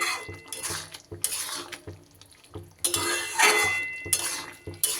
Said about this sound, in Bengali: এইবার সব উপকরণগুলো সুন্দর করে একটু মিশিয়ে দেব।